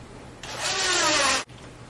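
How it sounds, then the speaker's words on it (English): A power drill drives a 1-inch flathead screw into a pre-drilled hole in wood, one steady whirring run of about a second that ends abruptly, with no talking. "we're going to take the 1-inch flathead screws and drill right into our pre-drilled holes."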